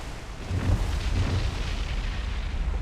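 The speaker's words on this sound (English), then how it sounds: "the magazine explosion blown it out of the water extremely quickly" Deep, rumbling ship magazine explosion in the naval warfare game War on the Sea, a sustained roaring boom with heavy low-end weight and crackling spread, continuous and loud without any voices.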